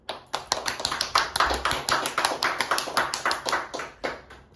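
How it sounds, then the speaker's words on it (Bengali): A small group claps hands at a birthday celebration, a quick, even run of sharp claps lasting several seconds, close and lively, then slowing to a few last claps. "হাততালি দে।"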